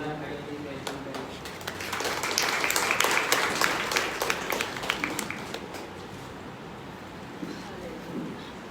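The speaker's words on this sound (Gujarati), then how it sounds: "આપણે જોરદાર તાળીઓથી વેલકમ કરીશું" A church congregation on Youth Sunday bursts into a few seconds of steady applause, surrounded by a murmuring room.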